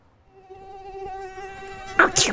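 A mosquito buzzes with a thin, steady whine that grows gradually louder as it nears, then sharp bursts of noise cut in near the end.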